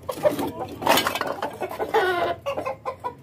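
A broody hen clucks in short, irregular bursts up close, with a few louder squawks mixed in among the rapid clucking.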